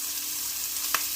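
Food sizzles steadily in a skillet, a Gardein skillet meal with sliced Italian sausage, making a constant bright frying hiss with one short louder pop or stir near the end; no voices.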